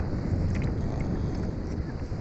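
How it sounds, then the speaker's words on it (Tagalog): Steady wind buffeting the microphone, a constant low roar with no pauses, with faint water or boat noise underneath. "nasimoy na ulit ang hangin"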